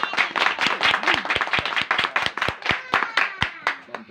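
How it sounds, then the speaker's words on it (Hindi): Congregation at a Hindi-language Christian worship service clapping loudly and in a steady rhythm, sharp hand claps close and dense over about four seconds with no talk. "एक बार जोरदार तालियां। ठंडिया नहीं, जरा ताप के बजाओ"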